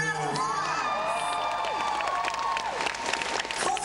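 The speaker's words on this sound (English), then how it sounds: "Let's give him a round of" A comic con audience bursts into applause and cheering for Colton Haynes' birthday, a dense crowd of clapping with whoops and high shouts, loud and close, with a little voice mixed in.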